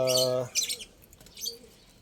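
Lovebirds chirp and squeak in short, high bursts close by while eating water spinach and moringa leaves, with a brief harmonic call at the start and soft pecking sounds between.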